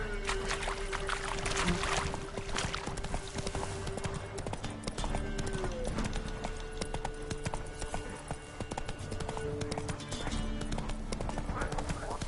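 Horse hooves clip-clop in a continuous riding rhythm in The Witcher 3, heard against busy game ambience with some background voice activity.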